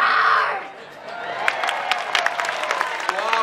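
A child lets out a short, loud growling roar imitating a lion, then a small group claps and cheers in quick scattered bursts.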